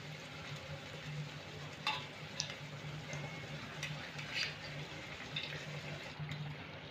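A Mughlai paratha frying in oil in a pan over low gas makes a low continuous sizzle with scattered crackles and small pops throughout.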